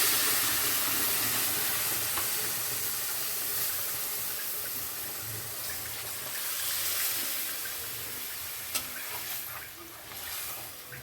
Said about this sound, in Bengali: একটু হলুদ দিলাম, এবারে জল দিয়ে দেবো।